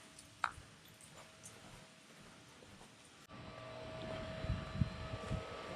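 A swimming pool pump and its equipment running, a steady mechanical hum and rush that grows louder and fuller partway through, with a few thumps and knocks nearby.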